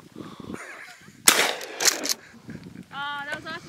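Two sharp, loud pistol gunshots fired outdoors at thrown clay targets, the first blast followed by a second about half a second later, with people talking before and after the shots.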